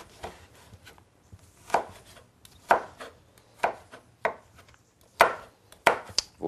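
Aubergine and courgette diced on a board with a knife, a series of sharp, close chops in uneven rhythm with quiet pauses and light scraping between strikes, no talking.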